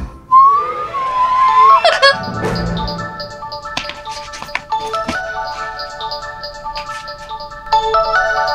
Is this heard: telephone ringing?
yes